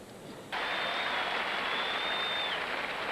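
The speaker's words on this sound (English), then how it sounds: "That applause, I think, Trade, is to inspire Hana Mandlikova, perhaps." Tennis crowd at the 1982 US Open women's match breaking into steady applause that starts abruptly and holds at an even, fairly loud level, with no talk over it.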